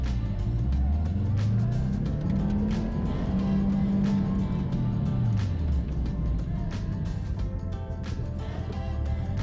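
A car engine drones steadily during a rig photography shoot, loud and close, its pitch climbing and easing as the vehicle speeds along, a constant roar with faint clatter on top.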